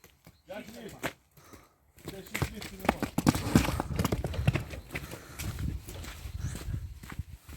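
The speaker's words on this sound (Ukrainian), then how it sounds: "Є лошечка, дивіться, яка лошечка по першерону і по цій кобилі" Horse hooves clip-clop in an irregular walking rhythm, fairly close, with people talking over much of it.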